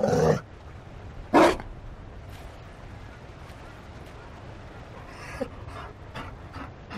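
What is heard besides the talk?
Mabari dog barking and panting in Dragon Age Inquisition video game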